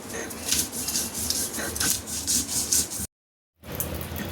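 Coriander powder, garlic and green chilli are ground into paste by hand, giving repeated gritty rubbing strokes in a rough rhythm, close up, with a short dead-silent gap before the scraping resumes.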